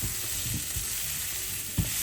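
Goan sausages frying in a pan, a steady close sizzle and crackle running throughout with a few soft stirring pops.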